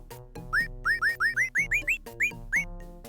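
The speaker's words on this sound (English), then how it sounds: "How about you try to use the false teeth? wonder what you're whistling now." Whistling through false teeth in the DOS game Gobliins 2: about ten short, rising, boinging whistle notes in a quick bouncy rhythm, clear and alone.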